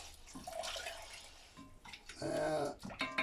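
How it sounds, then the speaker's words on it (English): Stock poured into a pot of soft, browned onions for French onion soup, a liquid splashing and trickling that swells louder toward the end, close and moderate in level. "So now I'm going to add the stock."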